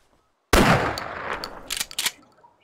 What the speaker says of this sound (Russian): Так звук похоже, стрельба.